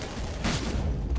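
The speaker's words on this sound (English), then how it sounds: "Nice grenade" A grenade explodes in a video game shooter, giving a short, loud burst of noise that thumps and rumbles for about a second, close by with no talk.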